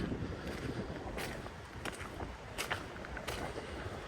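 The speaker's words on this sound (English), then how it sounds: "The wind's starting to pick up" Wind rushes and buffets against the microphone in gusty bursts in rural Victoria, Australia, a rough low roar with brief louder surges.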